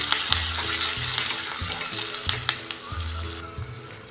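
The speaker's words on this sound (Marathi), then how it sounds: "हे फोडणी आता 1 मिनिटभर परतून घेऊया." Green chilli and curry leaves sizzle in hot oil for a tempering, a close crackling hiss over a repeating low hum, with occasional sharp pops before it quiets slightly at the end.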